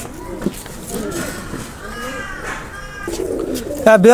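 Pakistani royal teddy pigeons coo softly in the background while someone talks over them nearby, with a sharper chirp or squeak near the end.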